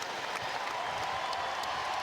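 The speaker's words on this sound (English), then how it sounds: "Great hand from this sold-out CLA crowd" A sold-out arena crowd at a South Carolina versus East Carolina college basketball game gives a steady, dense wash of applause and cheering that holds at an even level for the whole stretch.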